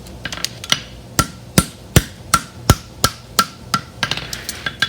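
Hammer blows on the outside edge of a bar horseshoe while shaping it, a dozen or more sharp metallic strikes in a steady rhythm, some lighter taps mixed in, loud and close with no talk.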